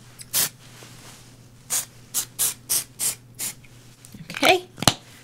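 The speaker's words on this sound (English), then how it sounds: "I'm going to take my do-over light hairspray and just spritz those." Light hairspray spritzed onto curled hair in short, separate bursts, about nine quick hissing puffs with gaps between them, close to the ear, ending in a rustle and a sharp tap.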